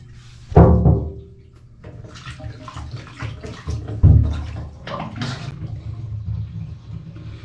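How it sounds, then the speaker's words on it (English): Clogged bathtub drain with a stopper letting water drain slowly, loud close gurgling and sloshing water with a couple of heavy thumps, continuous throughout. "So you can see it is draining"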